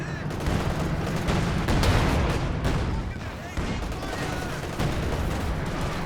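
Gunfire and explosions from a Company of Heroes 2 match rattle in dense bursts with heavy booms, a bundle grenade among them, under a commentator's voice.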